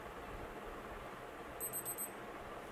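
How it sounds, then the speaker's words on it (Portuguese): A Casio G-Shock DW-5600MS digital watch alarm gives a short run of high, thin beeps, faint over a steady background hiss with no one talking. "a luz do relógio pisca em sincronia com o alarme"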